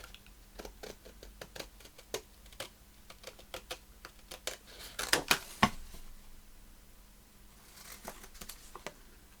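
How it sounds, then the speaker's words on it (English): Paper being cut with scissors to make a gingerbread man journal, close and quiet, a run of crisp irregular snips and rustles with a louder cluster of cuts midway. "Sorry, can't talk and cut."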